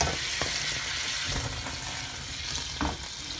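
Bananas frying in a hot pan for banoffee pie as a tablespoon of brandy goes in, giving a dense, steady sizzle with a few louder crackles and spoon knocks, close up and without speech.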